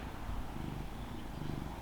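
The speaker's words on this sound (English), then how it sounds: "Oh, you purring." A house cat purrs up close, a continuous low rumbling vibration that is soft and steady throughout, with no other sounds.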